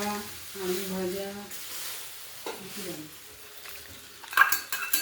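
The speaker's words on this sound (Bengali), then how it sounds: "ও ফ্রাইড রাইস রান্না হচ্ছে" Fried rice is stirred in a pan, with a voice heard early on, then a burst of close metallic scraping and clattering of a utensil against the pan toward the end.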